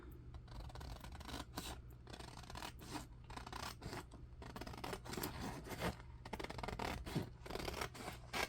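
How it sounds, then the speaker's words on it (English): Scissors cutting through two stacked printed paper sheets at once, a steady run of close, quiet snipping and rasping strokes in a regular rhythm with no talking. "let's go ahead and let's cut both at the same time."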